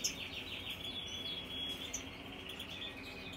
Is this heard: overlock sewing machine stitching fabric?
no